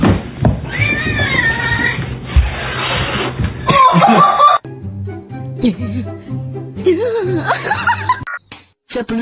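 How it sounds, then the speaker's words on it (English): A pet cat named Comet meows several times in bursts, with chuckling laughter and voices mixed in around the calls, and a brief sharp break of different sounds in the middle. "Meow!"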